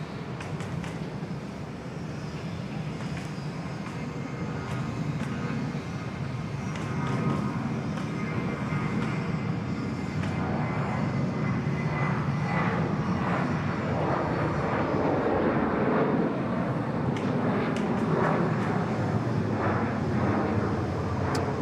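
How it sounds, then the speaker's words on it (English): A Singapore Airlines Boeing 787 arrives at Bangkok Suvarnabhumi Airport, its engines a steady broad roar that grows louder and fuller over about twenty seconds, with no talk over it. "Here comes our Singapore Airlines 787 we mentioned just a moment ago."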